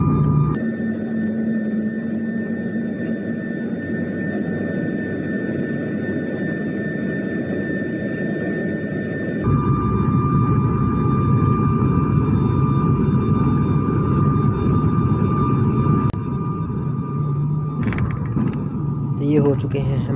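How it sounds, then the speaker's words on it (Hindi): Cabin sound of an IndiGo passenger plane landing at Prayagraj: a loud, continuous engine roar and rumble that shifts in tone partway through, with a few clicks and knocks near the end. "ये हो चुके हैं हम लैंड।"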